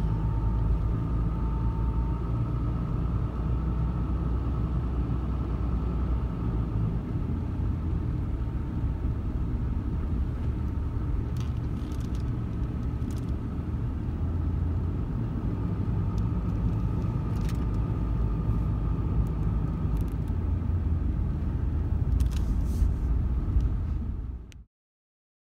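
A car drives through a forest near Philomath, Oregon, with a steady loud low rumble of engine and road noise from inside the vehicle, plus occasional faint clicks, continuing unbroken until it stops suddenly at the end.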